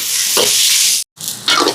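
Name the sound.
onion, garlic and green chilies sautéing in a pan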